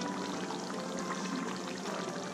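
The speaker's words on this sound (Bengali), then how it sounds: "এর মধ্যে দিয়ে দিচ্ছি আমি গরম মশলার গুঁড়ো" Steady, close, continuous hiss from a simmering potato paneer curry as garam masala powder goes into the pot, with no talking.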